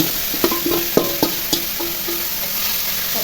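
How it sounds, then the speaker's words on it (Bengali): Dal and spinach being cooked in hot oil in a pan, a steady sizzle with a few sharp clinks and scrapes of a utensil close by, no voices. "তেলটা গরম হয়ে আসলে আমরা সেই ডালটাকে এর মধ্যে দিয়ে দেবো"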